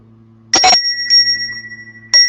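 A bright bell rings twice in quick succession, then its tone lingers and fades before one more crisp ring at the end.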